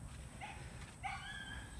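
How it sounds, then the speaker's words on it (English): Faint yelping barks and whines from dogs in a backyard, two short distant bursts with a thin whimpering tone, heard from some distance. "Sorry if the audio is not great and the dogs are barking"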